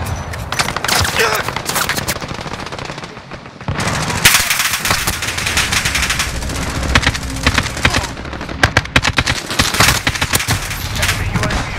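Machine gun fire rattles in Call of Duty: Modern Warfare, loud sustained bursts with a brief lull partway through, mixed with battle noise and game voices.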